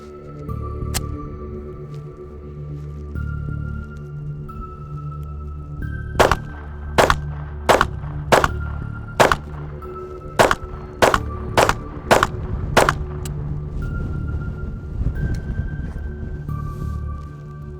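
Ten sharp Glock pistol shots fired from a Shield S15 magazine with Freedom Munitions ammo, in a quick irregular string of loud cracks over steady outdoor background noise.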